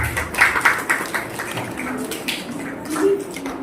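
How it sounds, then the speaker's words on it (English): Audience applause at a Vidyaarambh ceremony, a patter of scattered claps under a voice, moderately close. "Give a big round of applause."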